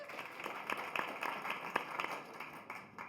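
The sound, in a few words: audience applause for Barro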